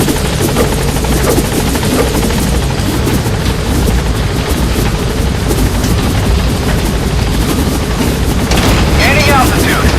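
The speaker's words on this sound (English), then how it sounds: "Support helicopter has arrived." A support helicopter arriving at a landing zone in Metal Gear Solid V, its rotor churning loud and constant, overlaid with booms and bursts of gunfire and a rising whine near the end.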